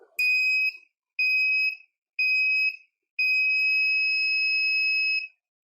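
An Arduino kit buzzer sounds a clear, piercing electronic tone three times in short, evenly spaced bursts, then holds one much longer continuous tone, loud and close in an otherwise quiet room.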